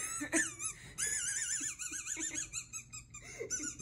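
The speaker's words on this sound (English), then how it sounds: "he swallowed a squeaky dog toy" A squeaky dog toy gives a rapid series of high, wavering squeaks, close and fairly loud, in short bursts.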